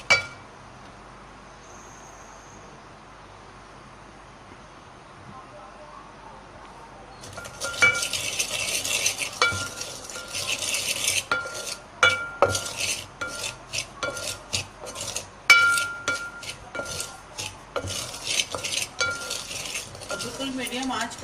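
Semolina for halwa stirred in a metal pan over medium heat: after a quiet start, a spoon scrapes and clinks against the pan in a busy, irregular rhythm, close by, while someone talks.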